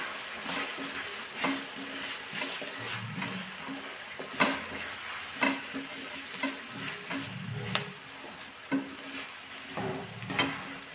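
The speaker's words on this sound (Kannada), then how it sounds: "ಈಗ ಇದನ್ನು ಸ್ವಲ್ಪ ಫ್ರೈ ಮಾಡಬೇಕು." Grated coconut, turmeric, tomato and onion frying in a pan with a steady low sizzle, punctuated by repeated scraping stirs every second or so, close and moderately loud, with no talking.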